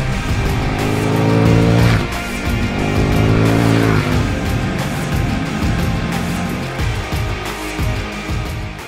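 A KTM Super Duke R with a 1301cc 75-degree V-twin, loud and close while riding, revving hard through rising gear pulls with brief drops between shifts, then settling into a rougher, lower drone.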